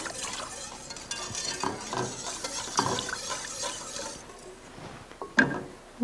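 Chicken pot pie broth seasoned with dried thyme, salt and pepper heating toward a boil in a pot, with a continuous simmering hiss, soft bubbling and a few stirring clinks close by.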